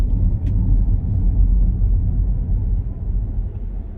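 Rivian R2 electric car on a demo drive under full regenerative braking, a steady low motor rumble and road drone filling the cabin, fairly loud and continuous with no one talking.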